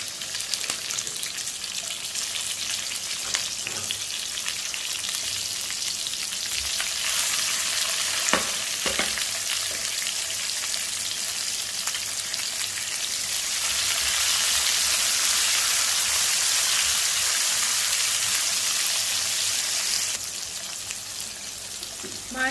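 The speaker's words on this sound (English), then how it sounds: "Fry the garlic until it turns brown. Then add in the stem first," Garlic and choy sam stems fry in a hot wok for Penang-style yee mee, a steady close sizzle that swells louder midway with occasional stirring scrapes, and no one speaks.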